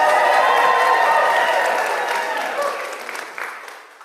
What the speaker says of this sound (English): Let's give it more of an applause.